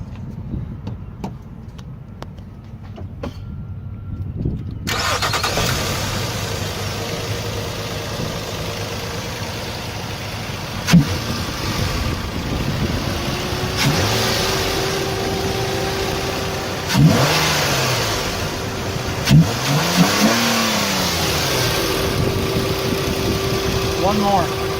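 A car engine turns over after a quiet pause and then idles with a rough, steady rumble. Several short revs swell and fall back, recorded close up underneath the vehicle.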